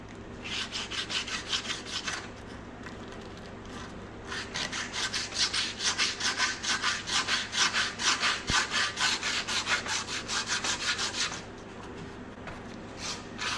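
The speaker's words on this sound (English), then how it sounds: "Okay, let's keep scrubbing on this." Chrome is scrubbed with Coca-Cola to remove rust, a rapid back-and-forth rasping rub repeated in long bursts with a short pause near the start, close and fairly quiet, with no voices.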